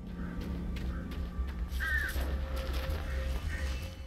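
Crows caw faintly in the Alan Wake video game, a few short calls over a steady, dense background of ambient noise and music.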